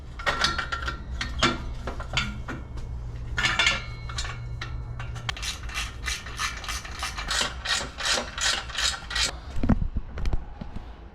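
Rapid ratchet clicks come in repeated bursts while bolts are tightened on a used Softail exhaust bracket being fitted to a Harley Dyna, with metallic rasping and scraping between runs, close and fairly loud.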